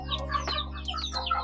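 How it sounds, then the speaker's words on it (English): Day-old chicks in a farm brooder cheep in rapid, overlapping high peeps, close and steady over a constant low hum. "These are some of the day olds that we have."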